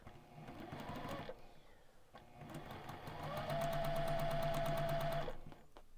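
A sewing machine stitches rows of quilt patchwork, running in steady bursts of rapid, even mechanical whirring, then building to one long continuous run before stopping.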